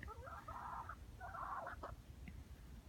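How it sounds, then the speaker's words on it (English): A speckled hen outdoors in fresh snow on a homestead gives two bursts of throaty clucking calls, followed by a few short sharp notes, fairly close and with no talk. "Here comes our speckled hen."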